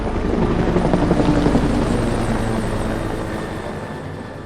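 A search helicopter flying over woods at night, its rotor thumping loud and steady and slowly fading a little, with no voices.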